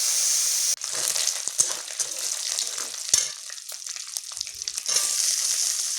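Dried fish (shutki) frying in oil in a kadai gives a loud, steady sizzle, broken by a few stirring scrapes and crackles.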